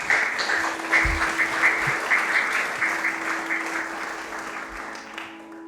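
An audience claps warmly to welcome Lama Arya Drolma to a mindfulness meditation session, a steady wash of many hands that swells briefly and then slowly fades.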